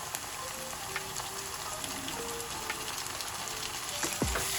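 Ginger paste and garlic paste sizzle in hot oil over lightly browned onions for a chicken curry. The sizzle is a soft, continuous crackle at low volume, with a few brief clinks and a louder stirring scrape near the end.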